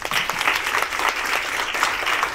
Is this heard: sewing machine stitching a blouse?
no